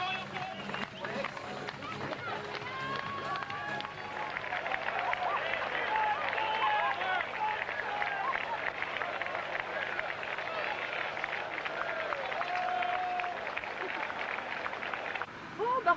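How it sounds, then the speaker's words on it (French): Crowd at the start of the Paris-Brest-Paris cycling event applauding and cheering riders, sustained clapping and shouting mixed with voices and babble, rising after a couple of seconds and continuing throughout. "j'aimerais les plus grands applaudissements et encouragements"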